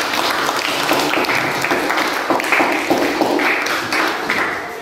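A classroom audience claps for a student's answer during a physics lesson, steady dense applause sustained throughout without talk.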